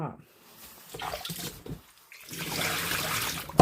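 Squid being washed in water, with splashing and running-water noise rising and becoming steady toward the end, heard under someone talking.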